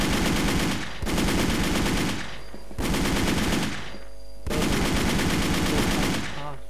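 Automatic gunfire from the WolfTeam online shooter, four long sustained bursts of rapid shots separated by short pauses, loud and close with no talk over it.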